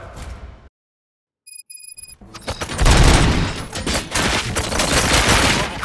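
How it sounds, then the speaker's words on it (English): Dense gunfire bursts out in Robocop Rogue City after a brief silence broken by a few electronic beeps: loud, rapid overlapping shots rattle continuously for several seconds. "Gunshots? What's going on?"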